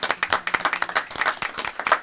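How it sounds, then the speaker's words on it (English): Round of applause from attendees at a city council meeting honoring a retiree, a steady burst of many hands clapping in a room, moderately quiet with no talk over it. "could we all give Talley a round of applause"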